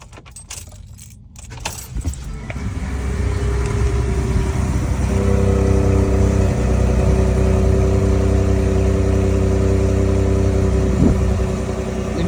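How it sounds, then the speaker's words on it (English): A Ford F150 EcoBoost pickup starts cold after sitting about eight hours. Faint rattles come first, then the engine cranks and catches into a loud, steady idle with a low rumble and a slight rise in revs. "check out what I get when I start up the truck cold now after it sits for about 8 hours or so."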